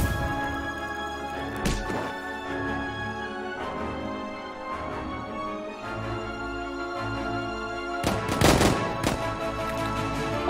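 Bursts of rapid gunfire crackle over a dense, droning background, with a heavier volley near the end.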